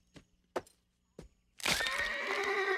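A pony neighs in a long, loud whinny after three brief, sharp knocks or clops, up close and alone without talking.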